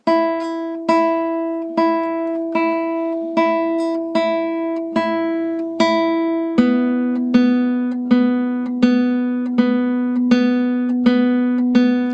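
Plucked guitar notes played with rest strokes, two per string, ring out one at a time in a steady, even rhythm, clean and close, each note sustaining briefly before the next.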